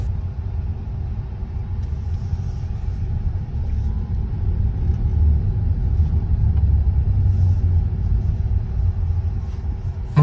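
Low steady road rumble inside a GAC Aion Y Plus electric car while driving, a smooth continuous hum with no engine revving and faint variation in level throughout.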